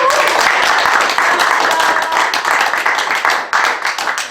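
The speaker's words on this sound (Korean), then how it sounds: "그런 저에게 여러분 박수 보내주세요" Audience applause at a Korean motivational talk, a dense wash of clapping that stays loud and steady throughout, then thins and becomes more uneven toward the end.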